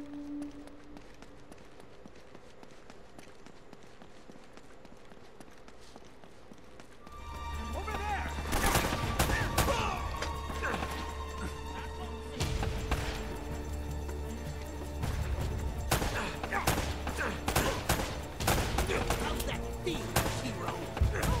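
Gunfire in the video game Uncharted, a burning plane scene, breaks out after several quiet seconds: loud repeated shots and impacts over a constant rumble, with speech going on throughout.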